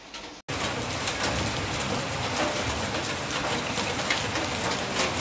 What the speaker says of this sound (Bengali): দেখো, ঝমঝম করে বৃষ্টি পড়ছে, রাস্তাতে জল দাঁড়িয়ে গেছে।